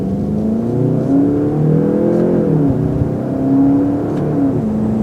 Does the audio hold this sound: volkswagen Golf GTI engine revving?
yes